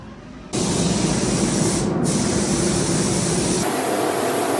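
A spray gun hisses base coat onto a raw plastic bumper in one loud, steady burst that starts abruptly, holds constant and then drops to a softer hiss near the end.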